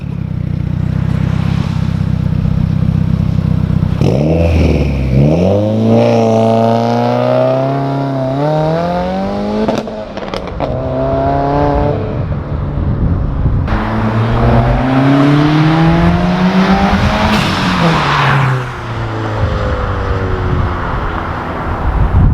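A Subaru WRX exhaust revs and accelerates, loud and close, with repeated rising engine pulls, deep burbling at low revs and climbing tone through the gears, then easing off between runs.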